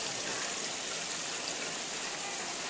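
Steady, dense monsoon rain in Rajapur, Konkan, hissing continuously, a broad even wash of falling water with no pauses.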